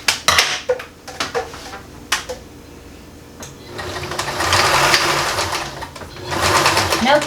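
A sewing machine stitches a fabric purse strap, a steady mechanical whir building up after several sharp clicks and handling knocks near the start, with the run swelling and continuing to the end.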